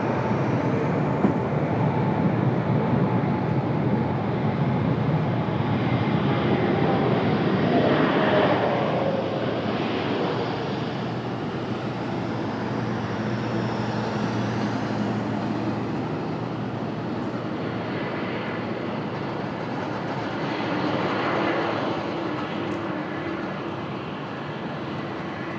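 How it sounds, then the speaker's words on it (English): A Breeze Airways Airbus A220 touches down on the runway, a long, distant, steady roar of jet engines and rolling that swells and fades gently over the clip. "Breeze Airways, that A220 touching down."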